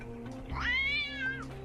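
A cat in the video game The Talos Principle II gives one clear, rising and falling meow over a quiet background hum of low game ambience.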